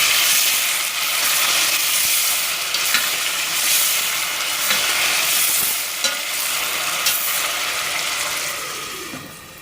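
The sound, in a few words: tomatoes being stirred and frying in a pan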